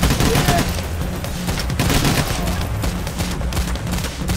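Rapid gunfire in the video game Payday The Heist, dense overlapping shots and bursts filling the whole stretch, loud and close.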